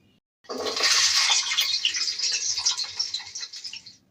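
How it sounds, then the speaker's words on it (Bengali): Whole garlic cloves drop into hot oil in a wok and sizzle loudly, a sudden bright hiss that starts abruptly and slowly fades over a few seconds, close and with no voices. "এবার কড়াইতে আরেকটু তেল দিয়ে"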